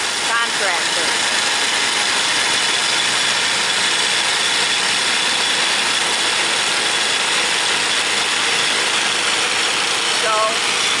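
Concrete screed machine leveling off concrete at a trade show, a loud, constant engine drone that fills the whole clip, with voices faintly underneath.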